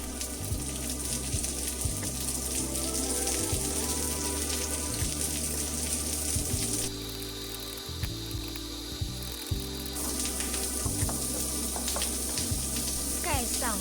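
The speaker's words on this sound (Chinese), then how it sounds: "再加入蒜苗翻炒" Garlic sprouts and cured pork stir-fried in a wok give a steady close sizzle, with regular scraping strokes of a spatula against the metal and a short quieter lull in the middle.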